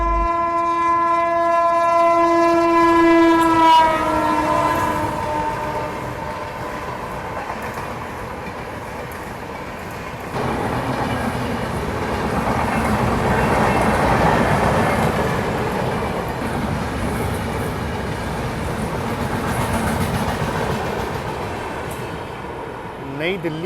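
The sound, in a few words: Purushottam Express train passing at speed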